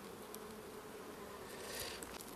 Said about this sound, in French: Oh, il y a des abeilles partout, bien sûr, sinon ça serait pas rigolo.